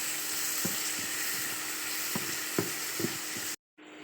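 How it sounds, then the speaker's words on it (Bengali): Onions frying in a pan for a chicken filling hiss steadily up close, with a few soft stirring knocks before the sound cuts off abruptly near the end. "পুর তৈরি করে নেব, পেঁয়াজ ভেজে নিচ্ছি।"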